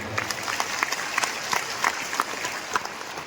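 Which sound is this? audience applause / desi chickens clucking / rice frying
audience applause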